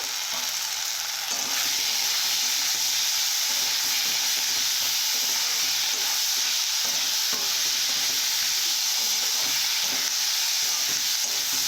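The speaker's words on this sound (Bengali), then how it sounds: "এইভাবে কিছুক্ষণ যেন কষে নেব মশলাটা" Masala spice paste with salt and chilli powder sautéing in a pan for a Bengali fish curry, giving a steady close sizzle and fry with repeated stirring scrapes throughout, no voices.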